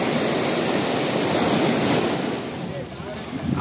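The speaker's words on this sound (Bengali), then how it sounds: "এখানে ঢেউটা দেখো তোমরা, মানে ভালোই ঢেউ আছে, জোয়ারের টাইম তো" Sea waves at high tide on Digha beach, a steady loud roar of surf and wind that stays close and continuous, easing slightly toward the end, with no talk.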